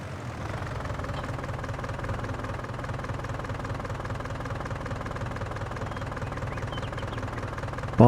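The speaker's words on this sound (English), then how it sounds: "If the tractor would stop moving." Tractor engine running with a steady low knocking idle, even and continuous at moderate volume, a brief bump at the very end, no voices.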